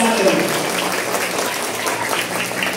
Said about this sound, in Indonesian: Tepuk tangan untuk Komite dan Paguyuban SD Negeri Jomblang 1.